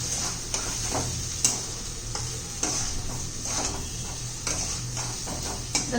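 Potatoes with garam masala, red chilli powder and turmeric stirred in a frying pan, a soft steady sizzle under repeated light scrapes and taps of a spoon against the pan.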